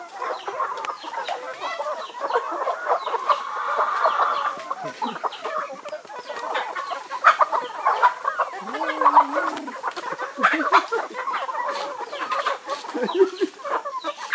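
Chickens cluck and squawk steadily on a farm, a busy flock close by with overlapping calls and occasional louder outbursts throughout.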